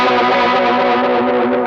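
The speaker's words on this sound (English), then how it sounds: "if you turn the rate and the depth up, you can get it to sound like a vibey kind of sound" Electric guitar through a phaser pedal with rate and depth turned up, a sustained, loud chord swirling with a slow sweeping, seasick wobble, alone with no talk.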